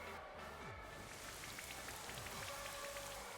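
Steady rain falling in the video game Pokemon Sword and Shield, a dense, even hiss of drops on a surface with scattered soft patters, continuous and fairly quiet throughout with no talking.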